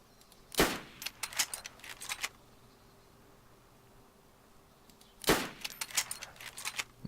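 Two loud, sharp gunshots in DayZ, spaced several seconds apart. Each crack is followed by a quick spatter of clicking and rattling before the scene falls quiet again.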